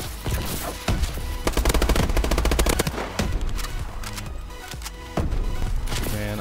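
Rapid automatic gunfire in Call of Duty: Advanced Warfare multiplayer, dense loud bursts of rattling shots with short gaps and a few heavier thumps, and no speech over it.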